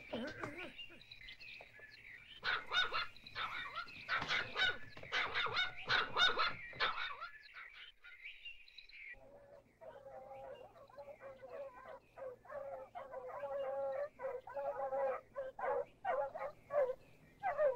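Several dogs bark repeatedly at a distance in the cartoon Bouba le petit ourson, with hurried voices and faint birdsong mixed in.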